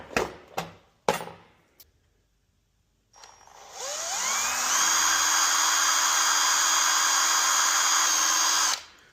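A few sharp knocks, then a power drill spins up and holds a steady, loud high whine for several seconds, boring into a broken spring mount on a Harley-Davidson motorcycle before cutting off.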